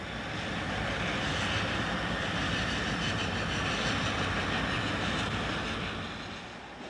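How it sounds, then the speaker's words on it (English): A freight train headed by three GP35 locomotives and a GP38-2, two still in Southern Railway paint, rumbles past close by with a steady, loud roar and wheel clatter that eases slightly at the end. "First eastbound number 111 is led by a trio of GP35s and a GP38-2, two of them still in Southern Railway paint."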